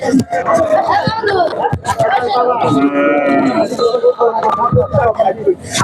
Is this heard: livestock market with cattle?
yes